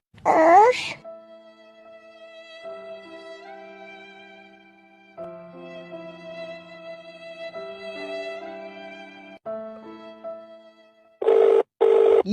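A telephone rings with a melodic electronic tune that plays steadily for several seconds. Brief voices are heard at the start and the end.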